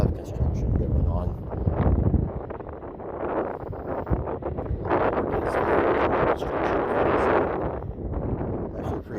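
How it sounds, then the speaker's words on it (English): Strong gusts buffet the microphone on the open deck of the cruise ship Independence of the Seas, docked at Nassau on an overcast, chilly day. The wind roars and rumbles in uneven surges, and someone talks throughout. "Really windy and overcast."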